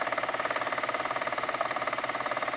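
A P-Motor quarter-inch foil pancake motor spinning at 4,000 RPM hums steadily with a fast, even pulsing throb, close up and constant, with no voices.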